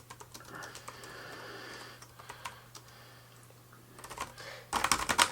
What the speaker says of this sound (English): I just started typing